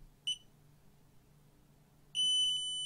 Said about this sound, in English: can you hear that buzzer?